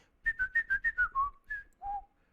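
A person whistles into the Chrome Music Lab web app: a quick run of seven short, clear notes stepping gradually downward, then two longer held tones. The whistling is close and plays alone with no talking.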